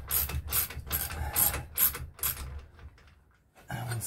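A brass locking nut is worked loose with a ratchet wrench, giving quick bursts of close clicking pawl strokes, then a short pause before the clicking starts again.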